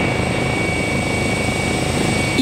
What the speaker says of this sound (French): avec pour moyen de transport l'hélicoptère du SAMU de l'hôpital